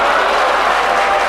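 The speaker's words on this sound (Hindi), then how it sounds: "समझ में आ गई हो तो ताली बजा दीजिए।" An audience at a Hindi poetry recital applauds, a dense, loud wash of clapping from a large crowd that holds steady through the whole brief moment.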